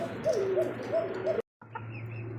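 A pigeon coos close by in soft, repeated rolling notes, broken by a brief silence before the cooing resumes.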